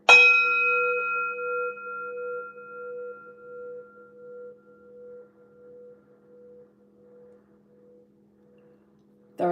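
A single bell-like tone, the second in a series of elemental tones linked to water, strikes brightly and then rings out as one sustained pure hum that slowly fades over several seconds in otherwise quiet surroundings.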